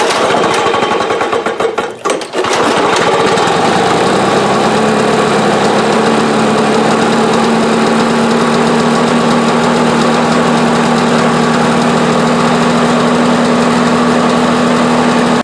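A Lawn Boy lawn mower engine fires up after a fuel line repair, sputtering briefly at first, then settling into a loud, steady, close idle that runs continuously.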